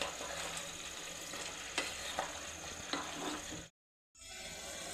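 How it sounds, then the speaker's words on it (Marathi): Mixed vegetables sautéing in butter and oil for pav bhaji give a steady close sizzle with a few spoon-stirring knocks, then the sound cuts out briefly before resuming. "भाज्या 2 मिनटं परतवून घेतल्या"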